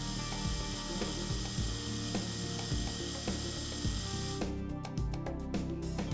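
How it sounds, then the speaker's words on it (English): A Calamus Flow dental handpiece pulling back its plunger gives a steady mechanical whir with ratcheting clicks, ending in a brief series of sharp clicks near the end. "press the return button to pull back the plunger"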